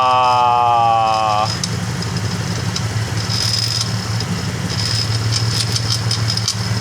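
A car engine with an exhaust fault runs steadily at idle with a rough low rumble, close and continuous, after a brief tonal whine fades in the first second.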